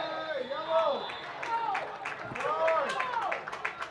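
A soccer stadium crowd at a Louisville vs. Cal ACC men's match reacts to a possible foul, with swelling, wavering shouts and groans rising and falling over a steady roar of many voices.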